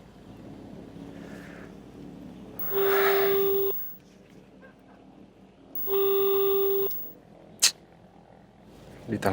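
A phone call rings out unanswered: two long, steady electronic ring tones about three seconds apart, each lasting around a second, over a faint background hiss, followed by a brief sharp click.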